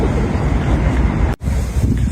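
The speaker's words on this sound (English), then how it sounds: "The river is in the full flow today. They call it high tide." Rushing water of the River Thames at Richmond at high tide, heard as a steady, loud broadband wash with heavy wind buffeting the microphone and a brief dropout partway through.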